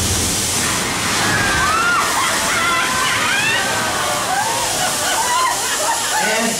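A special effects water tank dumps water onto a film set, producing loud rushing, sloshing and splashing throughout, with people talking over the noise.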